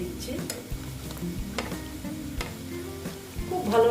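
Dal pakoras crackle and sizzle in hot oil in a pan as they are flipped over, with soft scraping, clinks of a utensil against the pan and a faint background voice.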